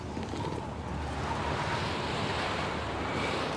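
Wind blows in an icy Ice Age landscape, a steady broad rushing roar that holds evenly for a few seconds, with no voices.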